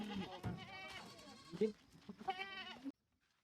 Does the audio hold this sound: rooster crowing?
no